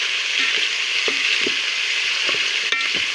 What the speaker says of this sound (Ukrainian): жариться на маслі, в якому жариться чесник